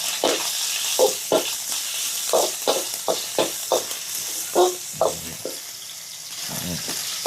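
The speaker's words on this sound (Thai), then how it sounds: "ผัดเลยครับ" Pork and garlic stir-fry in hot oil for Mama instant noodles, with about a dozen rhythmic spatula scrapes and clacks over a steady background sizzle.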